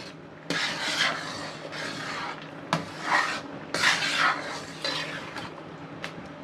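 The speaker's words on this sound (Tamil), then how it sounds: "நல்லா கிண்டி விடுங்க." Moong dal halwa with crushed almonds and cashews being stirred in a pan, a steady scraping and rasping of a utensil against the metal in repeated strokes, close and clear, with occasional sharp clinks and no talking.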